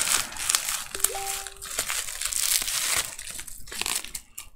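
Packaging is cut open during an unboxing, with close crinkling and crumpling of plastic wrap and a few sharp crunches over several seconds, and no talking.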